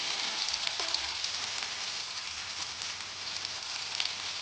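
Sliced onion sizzles steadily in hot oil with bay leaf and cumin, a continuous close hiss and crackle with small pops, nearly alone with no talk.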